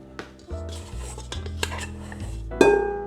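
A bowl scraper scrapes and knocks against a floured kitchen bench while pizza dough is worked, giving a string of close, clattering scrapes and taps that ends in a louder knock.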